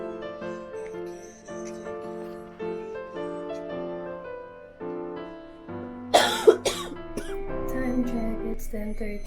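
A woman who is sick with a cough lets out a few harsh, close coughs near the end, after a stretch of soft background music.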